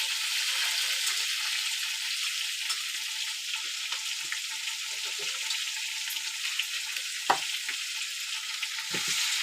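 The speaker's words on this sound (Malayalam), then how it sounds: "ഈ 2 ഉള്ളി നമ്മൾ നല്ലോണം മൂപ്പിച്ചെടുക്കാം." Two onions fry in the oil left over from kebabs, producing a dense, continuous close-up sizzle with a few faint stirring knocks and no voices.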